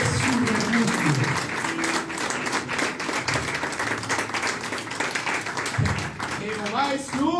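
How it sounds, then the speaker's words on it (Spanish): A church congregation breaks into sustained, lively applause, steady dense clapping with a voice speaking over it toward the end. "Denle un aplauso al Señor, porque Él es su refugio."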